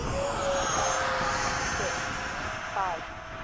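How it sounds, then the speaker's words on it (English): An E-flite F-16 RC jet with an electric ducted fan flies overhead, giving a loud, steady whooshing whine that shifts in pitch as it passes, with a voice talking over it. "Oh, this fan is way better now that it's balanced."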